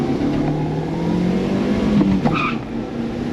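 Toyota Starlet EP91 engine revved hard through its whole rev range during a full-throttle acceleration run, a loud, steady, close-up engine drone with a brief squeal of tyre spin.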